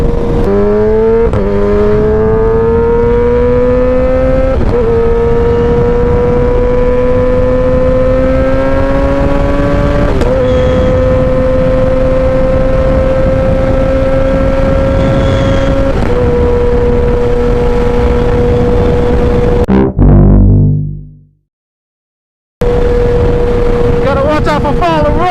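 Kawasaki ZX10RR motorcycle engine roaring loud and close while riding on Kentucky roads, rising through several gears with upshift steps, then cutting out abruptly for a couple of seconds of silence before resuming.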